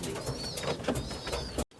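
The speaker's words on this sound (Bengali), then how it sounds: "খুব দারুণ পায়রা।" Pigeons of a fancy breed cooing in a loft, soft repeated throaty coos close by, ending in a brief cut to near silence.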